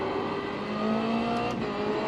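A race car engine in iRacing at Phillip Island, a loud sustained drone with a slowly rising pitch as it accelerates, steady and close throughout the short stretch.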